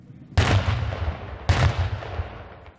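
Gunfire and explosions during a military exercise assault on a purpose-built mock town in Lithuania: two loud, close blasts a second apart, each followed by a sustained rumbling roar of rapid shots.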